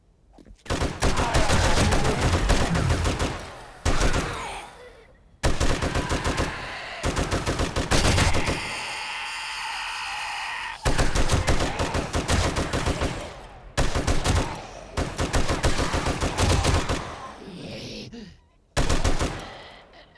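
An M60 machine gun fires in the survival video game 7 Days to Die, Alpha 18: loud, close, sustained automatic bursts come one after another, separated by short pauses and a longer break midway.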